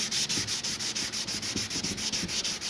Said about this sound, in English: everything gets sanded by hand